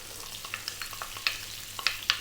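Sliced onion and celery frying in a pan give a steady soft sizzle, broken by light clicks and scrapes of stirring, close but fairly quiet, with no talk.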